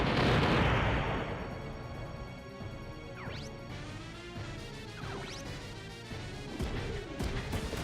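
A grenade launcher explosion in Front Mission 3: a loud crashing blast at the start that fades into ringing, followed by several sharper whooshing impacts and thuds scattered over the next few seconds.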